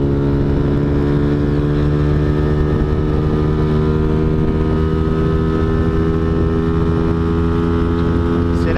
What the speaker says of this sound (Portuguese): Vamos ver como que a motinha vai se sair engarupada aí com relação 15:38.